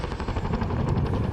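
RAF Chinook helicopter in a flying display, a brief, loud, dense rotor roar with a fast chopping throb, heard alone for just over a second.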